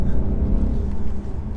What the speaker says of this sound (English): Oh, a bit more wheel spin.